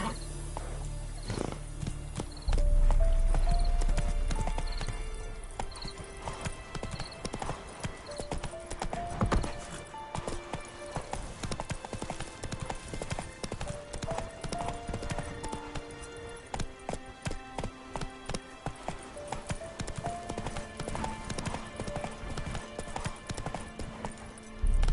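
Roach, a horse in a Witcher game, trots with steady clip-clop hoofbeats throughout, over background game music and ambient noise, with no voices heard.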